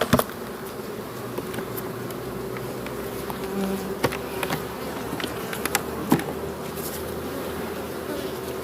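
Honey bees in Jamaica swarm around an opened hive while old comb is removed, giving a steady, close, dense buzz with individual bees zipping past now and then.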